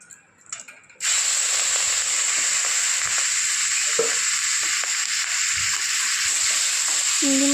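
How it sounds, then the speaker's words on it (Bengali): Shrimp frying in a pan after radhuni seeds are tempered in oil, a steady loud sizzle that starts abruptly and continues alone with faint clinks. "চিংড়ি মাছটা বেশ একটু হালকা ভাজা ভাজা হলে"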